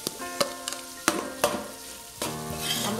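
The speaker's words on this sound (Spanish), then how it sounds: "Voy a agregar el tocino." Bacon sizzling in a discada pan while a utensil stirs and scrapes it, several sharp metallic clanks over a steady fry, close and clear.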